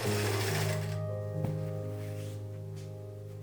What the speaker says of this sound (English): sew around the half circle with a wide gathering stitch